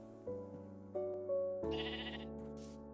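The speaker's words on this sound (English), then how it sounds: "we have a couple of sheep here." Sheep bleat in Minecraft on a tiny survival island, a few short close calls over a steady background of calm game music, with no talk.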